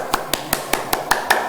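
Seven crisp hand claps in a steady, even rhythm, about five per second, close and sharp against a quiet background.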